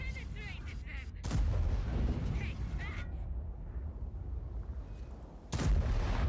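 A Waffenträger auf E 100 tank destroyer fires its gun in World of Tanks: two heavy, booming shots a few seconds apart, each followed by a long rumbling tail. A voice is heard briefly at the start.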